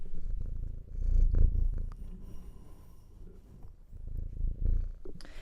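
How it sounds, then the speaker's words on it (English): A small cat purrs close up in a steady, rumbling rhythm with pulsing breaths, swelling and fading over several seconds with no talking. "I'm here with my co-host, my adorable little cat Maple."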